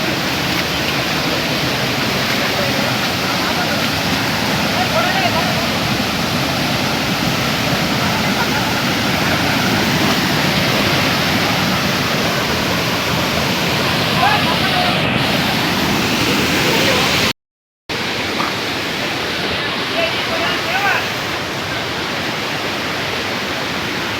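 Mookanamane Abbi Falls near Sakleshpur, Karnataka, roars as a continuous, loud, dense rush of water, steady from start to end apart from a momentary dropout.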